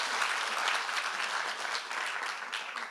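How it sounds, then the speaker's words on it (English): Steady applause from a conference keynote audience fills the whole stretch, dense and even clapping without pauses. "So a huge round of applause for her and her team."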